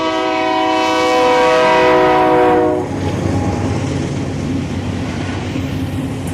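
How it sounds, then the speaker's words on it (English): A loud train horn blares for a few seconds, then a passing freight train of empty ethanol cars rumbles on with a steady low roar of wheels on the rails. "K476 is a backhaul train of ethanol empties out of Winter Haven, Florida to Chicago"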